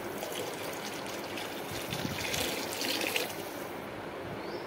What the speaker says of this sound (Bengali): তো দেখো এই পানিটাই আমি দিয়ে দিচ্ছি